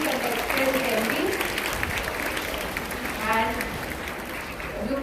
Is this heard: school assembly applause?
yes